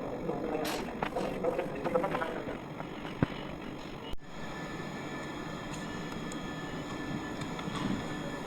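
A train pulling out of London Euston station, low rumbling rail noise and wheel clatter heard from inside the carriage, steady and moderately quiet, with a sharp knock midway and faint background voices.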